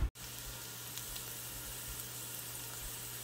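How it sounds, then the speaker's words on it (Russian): Steady soft sizzling of onion frying in a pan continues evenly, with a low constant hum beneath and one brief click at the very start. "Пока у меня жарится лук"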